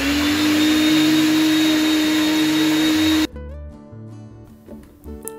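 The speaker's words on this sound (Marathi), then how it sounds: "आता हे आपण मिक्सरमधनं फिरून घेऊया." An electric mixer grinder whirs loudly as it blends ingredients with cold water in its jar, a steady high whine for about three seconds before it cuts off abruptly, leaving quieter background sounds.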